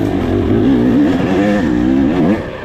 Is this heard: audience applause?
no